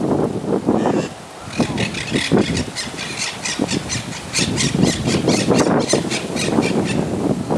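Quaker parrots squawking outdoors, repeated loud harsh shrieks in quick irregular bursts, with wind noise and faint traffic behind.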